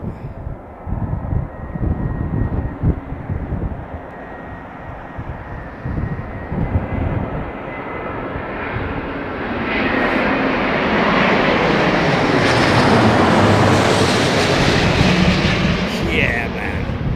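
A China Southern Airbus A350 in Hainan livery landing at London Heathrow: a loud, steady jet engine roar swelling as the airliner passes close, with a broad rushing wash that builds and holds near the end.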